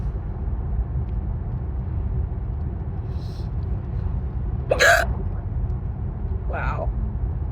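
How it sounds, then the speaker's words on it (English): A person's hiccups, two sharp isolated hiccups a couple of seconds apart, close and fairly loud over a low steady rumble of background noise. "Hiccups, fuck them."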